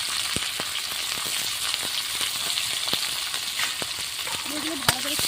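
Bay leaf, cumin seeds, chopped ginger, onion and garlic fry in hot oil, giving a steady close sizzle with light scattered ticks and pops throughout and a brief clink near the end.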